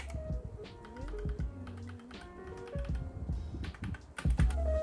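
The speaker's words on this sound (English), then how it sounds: "the one that I bought is the red switch version, and take a look on how it is so quiet" Rapid typing on an ASUS TUF Gaming K3 mechanical keyboard with red switches, a close, quiet run of soft key clicks and taps at an uneven rhythm, with a heavier thump of bottomed-out keys near the end and no talking.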